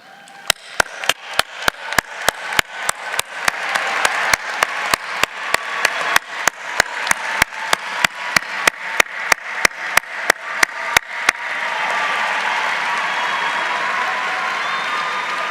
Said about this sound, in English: recognized by our applause.